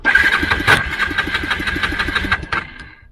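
A Kawasaki Bayou 220 ATV, a barn-find being restored, cranks and fires up, its small engine sputtering into a rapid, uneven putter close by before cutting off.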